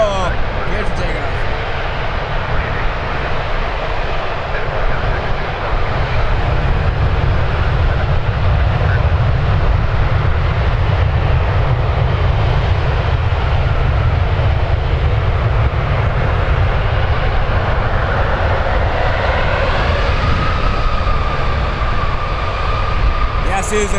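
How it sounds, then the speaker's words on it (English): A WestJet airliner takes off at Toronto Pearson with a loud, sustained low engine rumble and a rising whine toward the end, while a voice talks over it. "WestJet on the roll. Good for takeoff."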